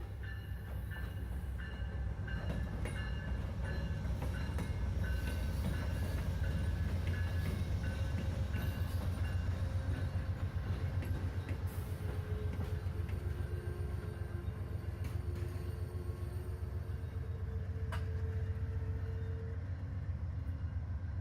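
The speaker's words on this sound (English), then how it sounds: "the next Amtrak 98 rolls into the station" An Amtrak 98 passenger train rolls steadily into a station, a continuous low rumble with rhythmic wheel clatter and squealing metallic tones building and holding throughout, loud and close.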